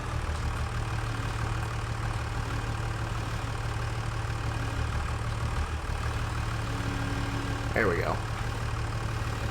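A tractor engine idles in the Farming Simulator 25 video game, a steady, loud, low rumbling drone throughout, with someone briefly speaking near the end.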